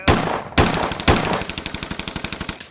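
Machine gun fire in a post-apocalyptic VRChat roleplay game: a few heavy loud bursts followed by a rapid, steady string of shots at close range, ending with a sharp final crack.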